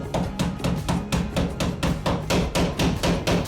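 Metal part on a rusty Toyota Tacoma truck axle being smacked with a hammer, a fast steady run of about a dozen loud, close blows with no talking.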